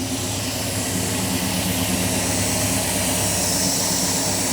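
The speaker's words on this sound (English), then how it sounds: "Injector's fired, and now we crank." A 1969 Dodge Charger with EFI cranking and firing on a cold start, a loud, steady, close engine roar with a dense rumble that holds evenly throughout.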